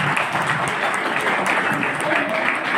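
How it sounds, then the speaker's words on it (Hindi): Steady applause from people gathered at a district court staff welcome ceremony in Gazipur, a dense even patter of many hands lasting throughout at full strength with no voices over it. "तालियां थोड़ा सा हो जाए"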